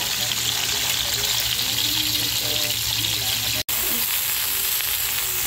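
Kangkong and tofu fry in a pan with a steady, close, hissing sizzle that runs continuously, broken once by a brief sharp cut, with faint stirring underneath and no clear talk.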